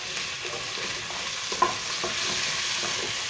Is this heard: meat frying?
yes